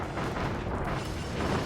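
Shotzo cannons fire shots in Kirby and the Forgotten Land, a dense run of booming, rumbling blasts layered over game sound that stays loud and steady throughout.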